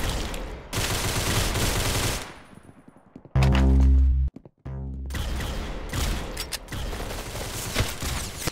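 Gunfire in a mobile shooter video game: dense bursts of rapid automatic shots, a sharp loud blast around the middle, then more clattering fire, close and loud with no talking.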